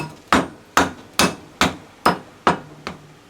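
Seven sharp hammer blows strike stiff metal bars clamped in a vise, knocking a bearing out of a generator gearbox; the hits come evenly spaced and loud, each with a short metallic ring and no talking.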